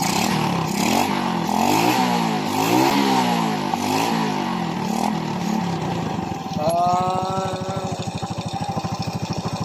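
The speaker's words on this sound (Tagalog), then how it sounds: "paandar natin sa kanyang motorsiklo" A carbureted Yamaha Vega 115 motorcycle with a freshly fitted spark plug cranks with rising and falling revs, then catches and settles into a steady, rapid idle putter close by.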